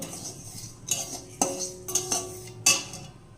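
Cumin and coriander seeds dry-roasting in a pan, a few sharp metallic clinks and scrapes of a spoon against the pan over a faint background hiss, close by, no talking.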